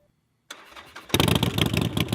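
A Harley-Davidson Street Bob with its stock exhaust pipes cranks briefly, then fires into a close, loud, throbbing idle after a second of starter whir, with no talking.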